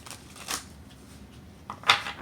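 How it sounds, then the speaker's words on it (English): A brand new tarot deck being shuffled, two brief riffling bursts of cards separated by a quiet pause, fairly close and soft with no voices. "Just want to shuffle it. It's a brand new deck."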